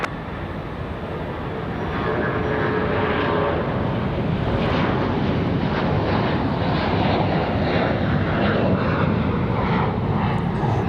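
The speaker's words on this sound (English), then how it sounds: "Frontier cleared for departure as well, as you guys heard" A Frontier airliner takes off from runway 23 right at Raleigh-Durham International, giving a broad, steady jet roar that builds over the first couple of seconds, then holds loud and sustained throughout.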